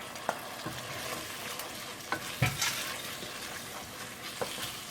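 Thick potato mixture stirred into a pot of creamy potato soup, with a soft steady simmer and sizzle under repeated close scraping and clunking of a spoon against the pot.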